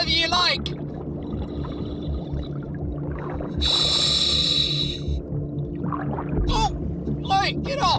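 A large sea lion barks and snorts at very close range, its rough, throaty calls coming in short bursts with a loud wet gust in the middle, while someone talks over the animal.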